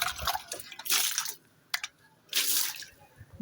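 Water splashes into a plastic can as it is rinsed out before watering flowers. Three bursts of pouring and sloshing come close by, separated by short quiet gaps and a single drip-like knock.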